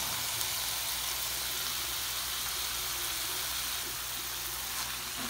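Potatoes frying in a pan for picadillo soup give off a steady, soft, even hiss of oil and steam with no pauses, fairly faint and unbroken throughout.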